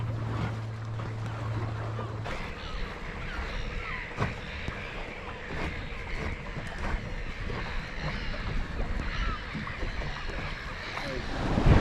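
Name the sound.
wind on a sailing boat, about 15 knots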